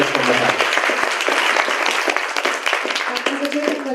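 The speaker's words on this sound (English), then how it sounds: "So, audience, please give a round of applause for Professor Chen and all the colleagues from Macau." A conference audience applauds in a dense, steady burst of many hands clapping at once. Scattered voices and murmurs run underneath, and the clapping stays loud and continuous through the whole stretch.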